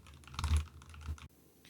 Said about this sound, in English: here's some talking whilst doing some typing in the background